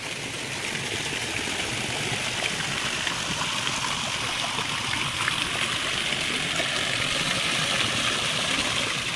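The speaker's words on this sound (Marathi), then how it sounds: "याच स्विमिंग पूलमध्ये खळखळ असा आवाज करत कोसळणारा एक आर्टिफिशियल वॉटरफॉल सुद्धा आहे।" An artificial waterfall pours into a swimming pool at a farm house in Karjat, a loud, constant splashing rush that never lets up.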